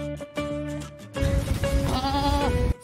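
A goat bleats in a series of wavering calls, a couple of short cries followed by a longer, louder drawn-out bleat over background noise, fairly close.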